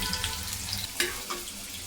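Onion, ginger and garlic fry in a pan for egg fried rice, a close, steady sizzle with a few sharp crackles and pops.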